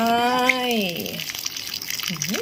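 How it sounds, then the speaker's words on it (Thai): Hot water gushes steadily from a dispenser into a cup of Korean spicy instant noodles, a continuous close pour that follows a brief voice at the start. "น้ำร้อนใส่ลงไป"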